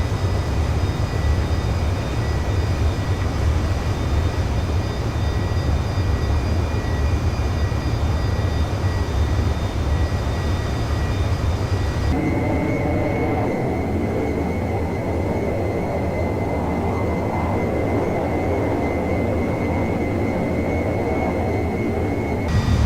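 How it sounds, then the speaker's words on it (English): SR-71 Blackbird jet engines throttle up in a flight simulator game: a loud, steady broadband roar that shifts in tone about halfway through and keeps going, with no talking. "So the RPM has finally dropped so low, I'm beginning to throttle up."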